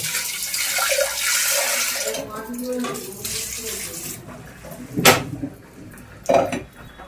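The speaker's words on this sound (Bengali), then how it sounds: "উপর থেকে একটু জল দিয়ে দেবো অল্প" Water poured from a tap into a metal pot of pressure-cooked chickpeas, a steady splashing pour with clinks of the pot, then two sharp metallic knocks near the end.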